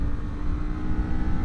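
A Kawasaki Z500 motorcycle engine holds a steady, buzzy drone, close and continuous with no change in pitch over the brief stretch.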